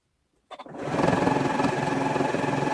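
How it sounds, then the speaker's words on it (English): Sewing machine, sewing a strip for a Gemini pattern project, starts after silence with a couple of clunks, then runs in a steady fast whirring hum for about two seconds. "That sound there was the machine just checking there's enough bobbin in the bottom"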